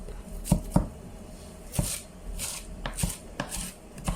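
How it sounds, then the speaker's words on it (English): A knife roughly chops ingredients for a Durban-style crab curry on a board, about a dozen irregular, close, crisp thuds with short scraping pauses between them. "I just give this a rough chop, just like that"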